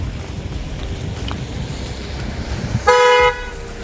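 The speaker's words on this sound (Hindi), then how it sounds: "हमारे पीछे वो ट्रैफिक है, गाड़ियों का आवाज़ आ रहा होगा शायद" Road traffic rumbles steadily on a rainy monsoon route toward Guru Shikhar in Mount Abu, then a single loud car horn blares for about half a second near the end, close by.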